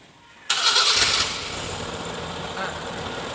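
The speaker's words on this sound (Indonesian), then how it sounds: "Mula-mula kita hidupkan dulu terlebih dahulu mesinnya." A car engine cranks and catches for a tune-up, a sharp start followed by a brief rev that settles into a steady idle, heard up close with no talking.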